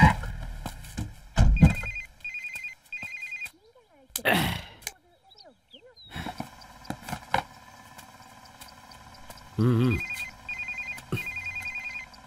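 A telephone rings in short repeated electronic trills, one burst of rings early on and another near the end, with thumps and other scattered noises in between.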